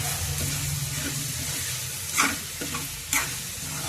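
A spoon stirs a prawn, tomato and drumstick curry in a pan with a steady sizzle underneath, broken by two louder scraping strokes partway through.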